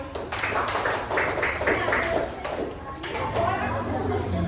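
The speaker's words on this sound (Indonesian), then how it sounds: "Oke, tepuk tangan dulu buat Bumi itu" Children clap together in an Indonesian primary school classroom, a dense burst of applause for a classmate that fades, with voices and room chatter mixed in.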